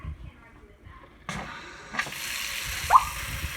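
Water runs from a newly mounted Glacier Bay fast-mount faucet, starting with a sudden gush and settling into a steady hiss with a splashy burst near the end, close and fairly quiet.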